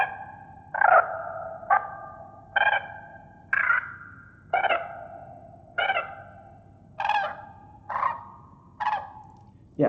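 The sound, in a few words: synthetic crane calls generated by networks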